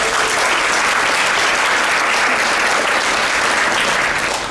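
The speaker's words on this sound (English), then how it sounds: "give yourselves and your colleagues a round of applause" A conference audience of counselors breaks into loud, sustained applause, a dense, even wash of many hands clapping close by for several seconds with no pause.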